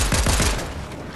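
Bursts of gunfire in a Fortnite battle near a gas station: a rapid rattle of loud shots in the opening half-second, trailing into a noisy tail, with no voices.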